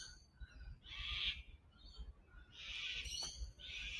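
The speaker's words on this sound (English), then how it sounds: "the song of the sulphur-crested cockatoo" Sulphur-crested cockatoos give harsh, raucous screeching calls in a succulent garden at the Royal Botanic Gardens, several loud bursts with short gaps between them over steady outdoor background noise.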